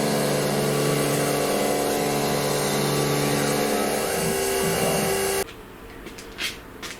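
A CNC router mills mold steel with a 6 mm two-flute end mill, a loud steady whine with shifting tones that stops abruptly near the end, leaving quiet room noise.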